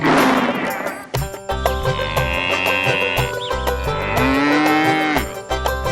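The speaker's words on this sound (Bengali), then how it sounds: "অনেকগুলো গরু একসাথে ডেকে উঠল না?" Several cows moo together in long overlapping calls over a busy background of animated-show music and effects, loud and close.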